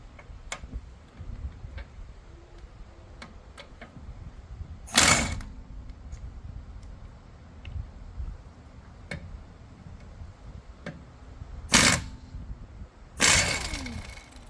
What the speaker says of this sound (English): So now we have our air gun, and this is how we're going to remove the bolts out of the tire.